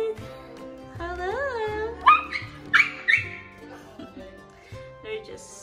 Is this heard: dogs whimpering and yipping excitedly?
yes